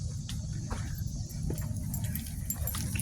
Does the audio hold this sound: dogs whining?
yes